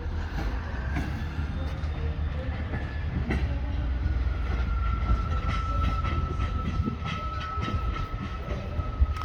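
A train at Shrewsbury rolls slowly into the sidings with a steady low rumble and faint clicking of wheels over rail joints, continuous and fairly close, with no clear talk over it.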